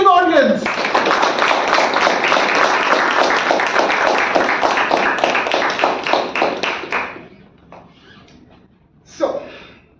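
An audience claps together in sustained applause for about six seconds, a dense steady patter of many hands that fades out, followed by a brief voice.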